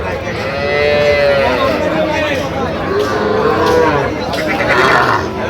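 A bull calf moos loudly and repeatedly at Ambari cattle market in Bangladesh, with long drawn-out calls rising over the chatter of a busy crowd and nearby talk.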